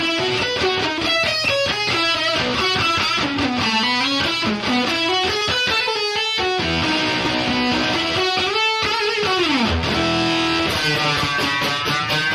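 Distorted electric guitar riff, loud and dense with bending, sliding pitch lines and fast picked phrases, played continuously without any voices.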